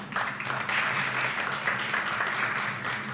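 An indoor audience applauds steadily at a formal event, a dense, even wash of clapping that holds for several seconds without talk over it.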